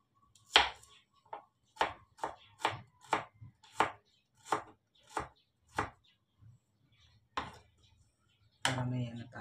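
A knife chops onion and tomato on a board in a home kitchen, with about a dozen crisp, close strikes at a fairly steady pace. The strikes stop, a pause follows, and a louder clatter ends the clip.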